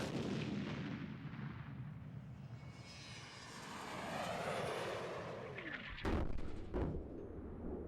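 A rocket sled fires at launch on a test track, a loud sustained roar that swells and sweeps in pitch before sharp blasts near the end, with no voices present.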